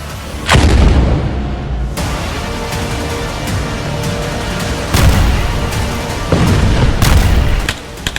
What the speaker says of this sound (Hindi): गाजा में हर घंटे हो रही ताबड़तोड़ फायरिंग ने हमास के लड़ाकों के होश उड़ा दिए हैं।